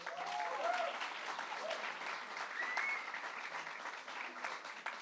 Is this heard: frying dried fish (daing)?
no